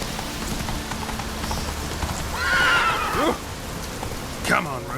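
Roach, the horse in The Witcher 3, whinnies loudly twice against a steady bed of hoofbeats and rain-like patter, the second call shorter and rising.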